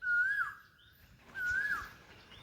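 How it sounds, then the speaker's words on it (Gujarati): An Asian koel calls from a tree in an orchard under dark rain clouds, giving two rising, fluting calls about a second apart, clear and moderately near, with no talking. "જો કોયલનો મસ્તનો"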